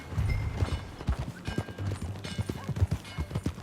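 Horse hooves clip-clop in Red Dead Redemption 2 in a steady rhythmic gait, close and fairly loud over a low rumbling backdrop.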